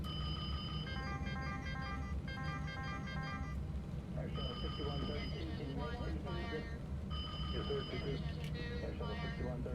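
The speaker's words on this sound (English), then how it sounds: "We can go ahead and test the fire alarms." MD-11 cockpit fire alarm test in a flight simulator, repeated electronic bell-like alarm tones sounding in bursts over steady cockpit hum, with a voice talking beneath.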